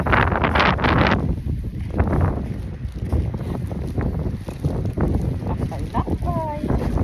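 Strong wind at Costa Calma beach, Fuerteventura, Spain, buffets the microphone in a constant roar, with surf or water rushing beneath and a voice speaking briefly.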